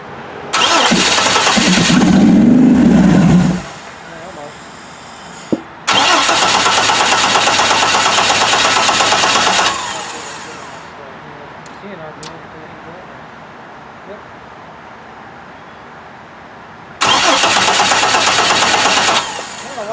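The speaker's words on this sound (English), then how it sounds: "Having an issue where now that it's warm, it doesn't want to start." A 1967 Checker Marathon with a swapped Vortec 4200 engine, warm and hard to start, cranks loudly in three separate long bursts with quiet gaps between them. It never settles into a clean idle, and voices talk over the cranking at close range.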